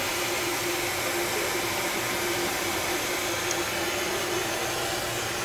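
A shop vacuum runs steadily, its constant whooshing motor roar holding at an even, fairly close level with no pauses and no talk over it.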